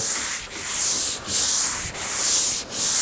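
A car body panel is block sanded with light pressure. Four long, loud, rhythmic abrasive strokes rasp back and forth up close, each separated by a brief pause.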